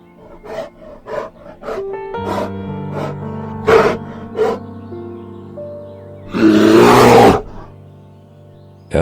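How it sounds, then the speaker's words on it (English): A bear vocalizing in the wild, a series of huffing grunts and gasping calls that build into a loud, rough roar near the end, close and unaccompanied by talk. "Bear."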